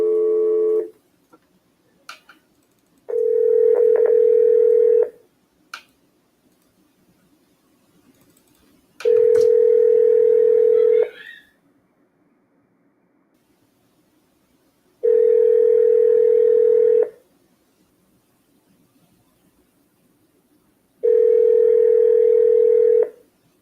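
Ringback on a phone call to a backup number: a steady tone in long bursts of about two seconds each, with quiet gaps of several seconds between them, repeating four times, clear and alone.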